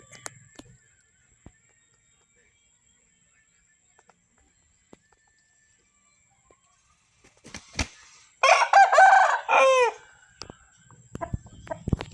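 A Burmese fighting rooster at a rural home crows once, loud and close, after a long quiet stretch broken only by faint knocks and distant bird calls.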